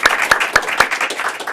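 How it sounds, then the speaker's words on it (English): Audience applause at a Toastmasters club meeting, a brief burst of clapping with a few sharp distinct claps standing out over a steady patter, close and moderately loud. "Round of applause."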